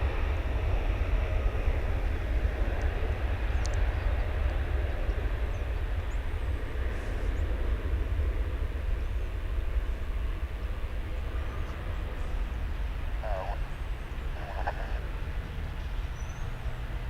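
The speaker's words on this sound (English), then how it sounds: "here goes the Dreamliner rocketing off to" A Boeing Dreamliner jet takes off from DFW International Airport in fog, its engines making a steady, broad low roar that holds throughout at a distance, without any talk.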